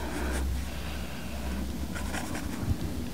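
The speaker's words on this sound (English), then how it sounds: "pencil in this design really fast" A pencil sketches a formal dress design on paper in a quiet ASMR session, giving soft, continuous scratchy strokes close to the microphone with no talking.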